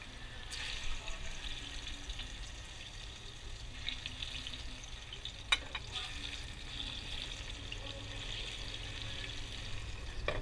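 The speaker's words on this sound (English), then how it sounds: "So I'm just gonna do a quick fry, and then I'm gonna drain the oil" Quiet sizzle of food quick-frying in oil in a pan, a steady hiss with faint stirring scrapes and a small click, heard in an outdoor kayak-trip cooking setup.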